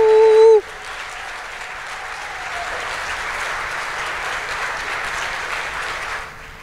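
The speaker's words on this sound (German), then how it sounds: "Sie ist diejenige, die jetzt einmal einen ganz großen Applaus verdient" An evening opening event audience breaks into sustained applause after a brief tone, a dense, even clapping that holds steady for several seconds before tapering off.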